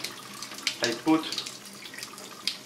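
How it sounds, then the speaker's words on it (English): Warm tap water runs over metal miniature parts being washed, a light splashing trickle with a few louder splashes and drips, under faint background voice. "I will wash the parts with water"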